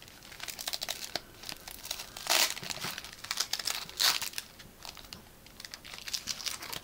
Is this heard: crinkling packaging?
yes